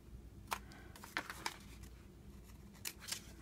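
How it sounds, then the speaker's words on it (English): Scissors snip the tips off a sheet of paper folded into a triangle, with a handful of short, quiet cuts scattered irregularly and close by. "we're going to cut the tips off"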